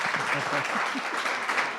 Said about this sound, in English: Can we get another round of applause for this?